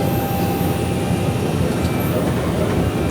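Inside the B-29 Superfortress "Doc", a World War II bomber, a loud, dense, continuous engine rumble fills the cabin as it taxis onto the runway, steady throughout with no break.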